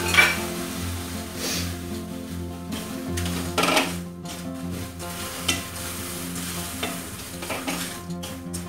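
Broken wheat and washed lentils go into a cooking pot for dalia khichdi, bringing a continuous sizzle with scraping stirs and occasional utensil clinks against the pot, close and moderately loud with no speech.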